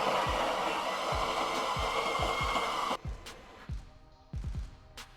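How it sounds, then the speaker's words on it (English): An electric coffee grinder whirs through espresso beans, a loud, even motor roar that cuts off abruptly midway, followed by quieter rattling and thumps. "Tally it to 0, then grind your coffee."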